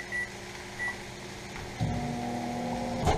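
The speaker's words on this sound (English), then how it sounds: "This you lay it in the microwave and you cook it for 4 minutes." Microwave oven cooking cauliflower rice in an RV, with two short beeps from the keypad, then the low steady hum of the running oven starting up and continuing.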